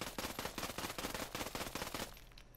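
Vector SMG in Ghost Recon Breakpoint fires a sustained rapid burst of close, loud gunshots for about two seconds, then cuts off into a short fading tail.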